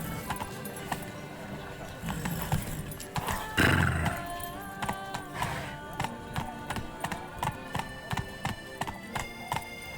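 Roach, a horse in The Witcher 3, gallops with steady rhythmic hoofbeats, neighing and snorting, while game music and effects play underneath; voices are heard briefly.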